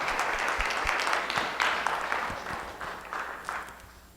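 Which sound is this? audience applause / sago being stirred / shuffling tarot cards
audience applause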